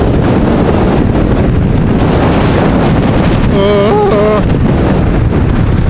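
Loud, steady roaring wind buffets the microphone of a Suzuki V-Strom 650 motorcycle on the move, with a short vocal exclamation partway through.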